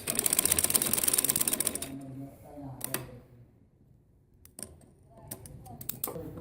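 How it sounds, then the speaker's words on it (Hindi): A domestic sewing machine stitching the bottom hem of a trouser leg: a fast, steady mechanical whirr with rapid needle ticks for about two seconds, then quiet pauses broken by short clicks and handling. "अब मैं ये दूसरी साइड का मोहरी सीने लगी हूँ।"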